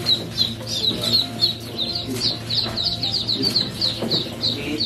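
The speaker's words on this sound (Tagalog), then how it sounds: "bibilangin na natin yung ating mga Peking duck na napisa" Newly hatched Peking ducklings peep continuously in high, rapid chirps, a busy chorus of many chicks heard up close.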